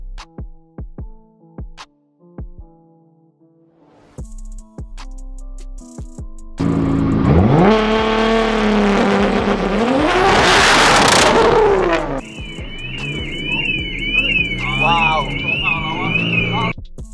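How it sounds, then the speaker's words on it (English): Nissan GT-R performing a launch control start, engine building to a loud rev and surging acceleration up close, followed by a high electronic whine, with people talking over it. "We're going to be testing some launch control"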